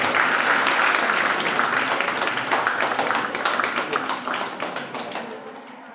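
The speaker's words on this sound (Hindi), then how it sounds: "आप लोग जोरदार तालियों के साथ स्वागत करें।" Audience applause welcoming a university science dean to the stage, a sustained crowd of clapping hands filling the room, gradually thinning and fading toward the end.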